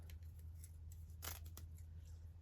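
Scissors snip through paper or fabric for a journal topper, a few crisp close cuts at a quiet workspace, with a low steady hum underneath.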